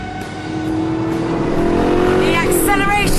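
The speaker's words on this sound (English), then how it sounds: "The acceleration just goes on and on and on, basically until your nerve gives out." A V8-powered Le Mans coupe rated at 500 horsepower accelerates, its engine building in pitch with a rising, sustained roar and a brief shift-like break near the end, heard close and loud with a voice partly over it.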